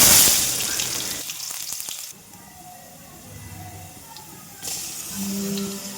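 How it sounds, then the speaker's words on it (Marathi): Onion, green chili, garlic and cumin fry in a pan, giving a steady broadband sizzle and hiss that starts loud, drops softer midway, then swells again near the end. "मी आता टाकलेलं आहे कांदा, हिरवी मिरची, लसूण, थोडंसं जिरं. आता हे फ्राय होऊन देणार"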